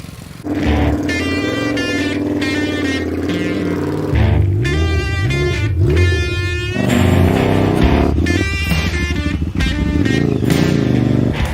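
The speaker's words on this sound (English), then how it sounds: "Reverse gear engaged." A vehicle engine runs and revs through reverse gear at an outdoor off-road party event, a steady loud mechanical drone with shifting pitched whines and surges.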